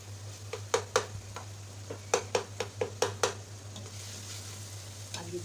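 Masala frying with minced meat and green beans for keema phaliyan, a steady sizzle and hum under a rhythmic series of spoon knocks and scrapes against the pot, with no voices.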